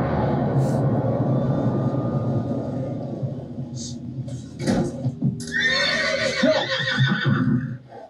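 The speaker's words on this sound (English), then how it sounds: "There's a horse in your house." A horse whinnies loudly near the end, a shrill wavering call over a steady low rumble of background noise.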